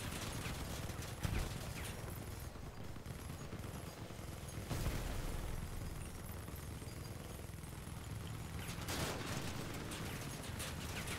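Vehicle cannon fire in the vehicle combat game Crossout: dense, loud bursts of gunfire and explosive impacts rumble almost without pause, with sharper blasts near the start and the middle.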